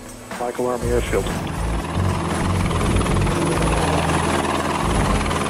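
Helicopter rotor thumping steadily and loudly throughout, with a person speaking over it at the start.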